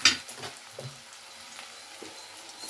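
Fried onion and ground spice paste for crab curry sizzle in hot oil, with a soft steady crackle and a few stirring scrapes, quiet and close, no voices.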